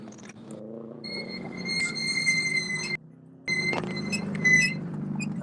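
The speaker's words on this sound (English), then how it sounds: "that's what race brakes sound like" Squeaky race brakes on a rally car at a North East PA rally sprint stage, heard as long high-pitched tonal squeals that hold steady, drop out briefly, then return over a low engine rumble, fairly close.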